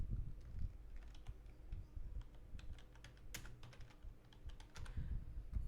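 Quiet, close clicking of a computer keyboard while entering text for a flyer design in Illustrator, irregular keystrokes in short bursts with no speech.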